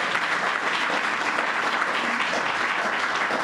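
An audience at a governor's announcement event applauds in a steady, dense wash of clapping that holds at an even level throughout.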